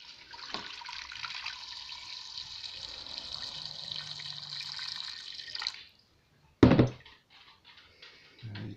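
Pieces of gathered seaweed dropped into a pot of boiling water, a steady bubbling hiss that cuts off, followed by a sharp splash or clatter and quieter liquid sounds.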